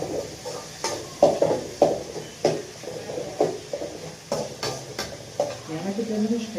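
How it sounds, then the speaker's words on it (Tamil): Tomatoes and onions frying in a pan, with rhythmic scraping strokes of a spoon against the metal roughly every half second over a soft sizzle, and a voice briefly heard near the end. "தக்காளியும் வெங்காயமும் வந்து நல்லா ஃப்ரை ஆகணும்"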